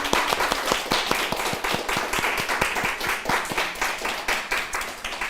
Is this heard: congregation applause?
yes